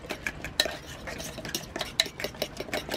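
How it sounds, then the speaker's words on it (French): A fork stirs an herb and oat flake galette batter in a bowl, clinking and scraping in a fast, busy rhythm, close up with no talking. "Donc, on mélange à la fourchette."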